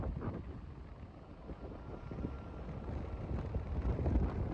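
Steady wind rumbling and buffeting against the microphone in a dusty Nepalese desert, a low continuous roar that swells slightly toward the end.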